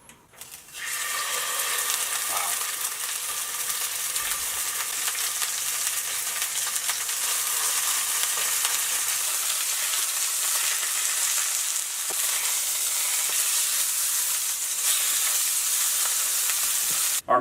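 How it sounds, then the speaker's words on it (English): A moose roast sears in a hot pan with a loud, steady, close sizzle that runs unbroken throughout and has no talking over it. "The way I like to cook these moose roasts is I just sear it in a pan"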